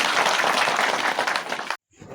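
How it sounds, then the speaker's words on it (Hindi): Crowd applause at an outdoor community meeting in Palamu, a dense, steady wash of clapping that fills about two seconds and then cuts off abruptly into near silence. "उनके लिए मैं चाहूँगा कि आप लोग जोरदार तालियां"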